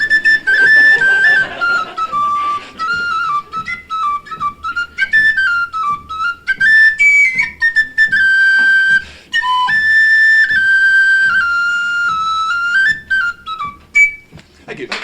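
A person whistles a folk tune at a live folk club concert, the melody clear and close, flowing through rising and falling phrases for the whole stretch with brief pauses between lines and no voices over it.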